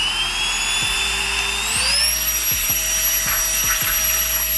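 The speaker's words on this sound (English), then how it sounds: "it'll continuously blow air stronger" A BBnano handheld air blower runs continuously at its stronger setting, a steady high-pitched whirring drone that rises in pitch as it speeds up, with a few soft knocks underneath.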